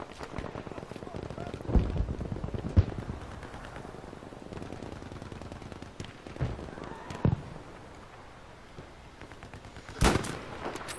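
Scattered gunshots from Battlefield V play out in a sniping match, a few distinct cracks spaced several seconds apart amid game ambience, with someone talking at times.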